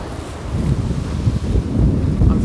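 Strong wind on a beach at Ogmore, South Wales, about 20 mph, buffets the microphone with a low, rumbling roar, gusting unevenly and heavily, with no speech.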